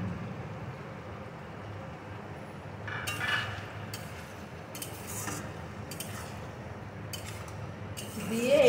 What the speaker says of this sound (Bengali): চালটা এর মধ্যে দিয়ে দিই।